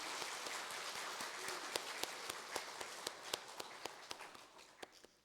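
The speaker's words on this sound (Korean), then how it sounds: "우리 격려의 박수 하겠습니다." A congregation applauding in encouragement during a Sunday church service, a continuous wash of many hands clapping with a few distinct louder claps standing out, fading slightly toward the end.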